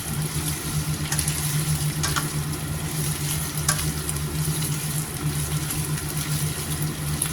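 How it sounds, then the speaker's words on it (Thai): Chicken stir-fried in a pan with vegetables: a steady hiss of frying under a low hum, broken by a few sharp clinks and scrapes of the spatula against the pan. "ผัดให้สุกก่อนนะคะ เดี๋ยวเรามาใส่ซอส"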